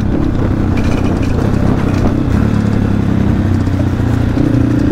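A motorcycle ridden again after four or five months parked, its engine running steadily and loud close by for the whole stretch, with clattering mechanical rattle and no voices.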